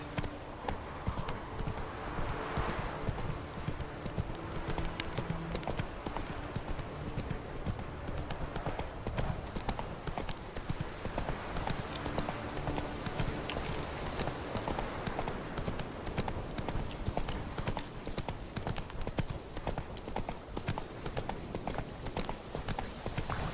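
A horse's hooves clip-clop at a steady trotting rhythm in The Witcher 3 game, continuous and fairly quiet, with a brief whinny early on and faint background game ambience.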